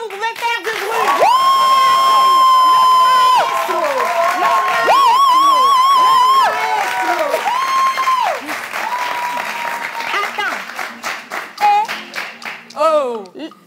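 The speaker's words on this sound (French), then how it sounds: "Est-ce que vous pouvez faire du bruit?" A large live-event crowd cheers, shouts and claps loudly and continuously, with long whistle- or horn-like tones ringing over the noise, before thinning into scattered calls toward the end.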